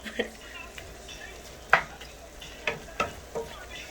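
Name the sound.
stirring ground beef and potato frying in pan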